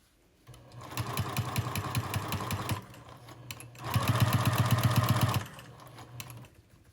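A sewing machine stitches in two steady bursts, a fast rhythmic whirring and clatter, louder in the second run, with short pauses between.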